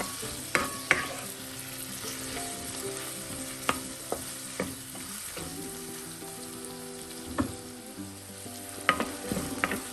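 Chopped tomatoes frying in a pan for aloo masala curry, a steady close sizzle broken by sharp clicks and scrapes of a spoon stirring, with no talking.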